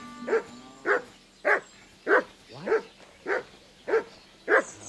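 A dog in the video game Kingdom Come: Deliverance 2 barks eight times in a steady, evenly spaced rhythm, each bark clear and fairly close, with no talking over it.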